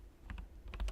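A computer keyboard's Delete key is pressed repeatedly, sharp close clicks in two quick pairs, faint and alone.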